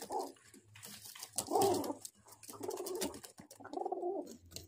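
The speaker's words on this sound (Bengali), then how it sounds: "এখানে 6 পিস পায়রা আছে" Pigeons of Madrasi and Giribaz highflyer breeds coo in several distinct bursts, fairly close and clear over a quiet background, with no talking.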